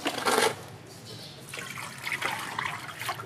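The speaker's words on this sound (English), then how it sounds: "I put the water in the bowl." Water splashes and pours into a pot, starting with a loud gush and then continuing as a softer, uneven trickle.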